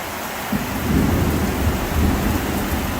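Heavy thunderstorm rain pouring on a small urban farm in Australia, a dense constant roar of downpour with low rumbling thunder underneath, loud and close throughout.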